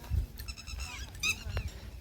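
Goats and cows in a village herd bleat now and then over a low outdoor rumble, with a couple of short calls standing out at moderate distance.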